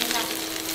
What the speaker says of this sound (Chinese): 蒜头炒香一下